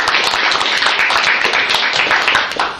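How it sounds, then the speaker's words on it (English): Dense, steady applause from a group at a city council planning retreat fills the room, many hands clapping at once for nearly three seconds without pause. "A little round of applause for those two."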